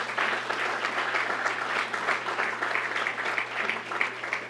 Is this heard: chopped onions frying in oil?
no